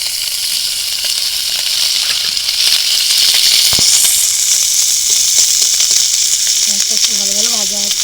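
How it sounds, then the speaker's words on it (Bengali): Onions fry in oil in a pan that earlier held fried fish, giving a loud, dense, continuous sizzle close by, with a brief tonal sound near the end. "পেঁয়াজটা একটু ভালো ভালো ভাজা হচ্ছে"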